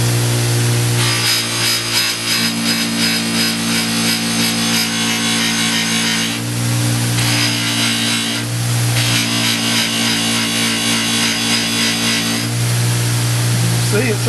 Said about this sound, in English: Barely want to put a little bit on that wheel. And then we'll start polishing.